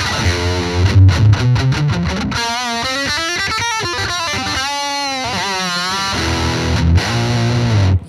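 Electric guitar played through a Fender overdrive pedal, with chords strummed at first and then a run of sustained single-note lines, all loud and gritty throughout, with no talking.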